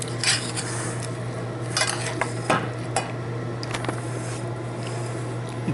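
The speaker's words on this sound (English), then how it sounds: "Let's stir in the rice with this" Rice being stirred into beef sirloin in a pan, with brown rice, gives close scraping and clinking of a utensil against cookware in irregular strokes over a soft steady sizzle.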